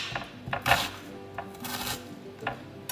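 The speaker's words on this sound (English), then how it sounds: "I cut my onion in half, and then what I'm going to do is I'm going to slice it" A knife slices through an onion on a cutting board, giving several crisp chops with short pauses between them, close and fairly clear.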